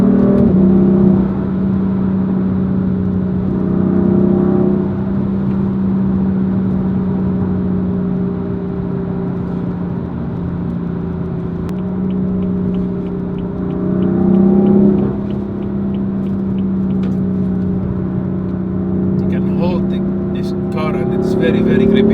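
A BMW M4 engine hums and swells through a few revving surges while driving, a steady low drone rising and falling under continuous close talk from a person inside the car.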